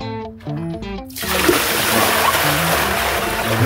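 Water poured, likely from a bucket, down a septic drain just cleared of a clog; after a second of brief tonal notes, a steady rushing splash of water fills the rest of the clip.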